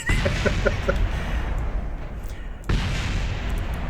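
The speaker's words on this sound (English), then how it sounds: "random explosions as space parts continue to fall from the sky" Explosions from spacecraft parts crashing down in Kerbal Space Program, heard as a dense, continuous rumbling roar with scattered blasts and a sharp fresh boom near the end, loud and without speech.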